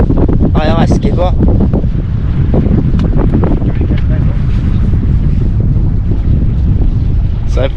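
A fishing boat motors along a river with a loud, steady engine drone and wind rushing over the microphone throughout, and a voice briefly heard near the start.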